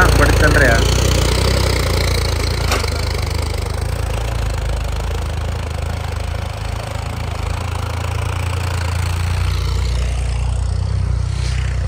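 A John Deere 5310 tractor with a 25 hp upgrade runs close by, its engine holding a steady, loud, rough idle with a low throbbing rumble that stays level throughout.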